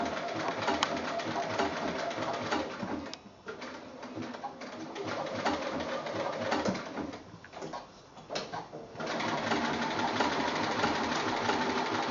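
A sewing machine stitches around a gumboot appliqué on a quilt block, a steady close mechanical whir running continuously with a couple of brief slowdowns and restarts.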